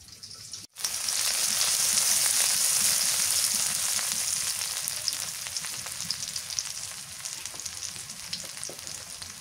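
Onions frying in hot oil in a pan for a green banana and tilapia fish curry, a steady loud sizzle that bursts in after a brief pause and continues with crackling throughout, no talk.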